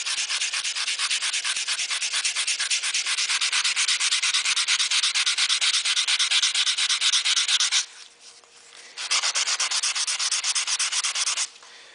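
Stainless steel trim being sanded by hand with 150 grit sandpaper, a loud close rhythmic rasping of fast back-and-forth strokes that pauses briefly before resuming.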